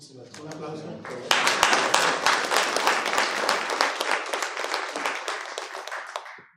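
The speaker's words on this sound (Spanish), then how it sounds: "Muchísimas gracias. Un aplauso." An audience applauds after a panel session on Indigenous political participation. A speaker's voice comes first, then loud, sustained clapping swells and holds for several seconds before fading away.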